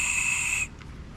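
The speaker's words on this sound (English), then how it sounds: "not the best whistle in the world, but could come handy in an emergency" A survival whistle from a BattlBox kit blown once in a loud, steady, shrill blast lasting over half a second, then cut off abruptly into quiet room noise.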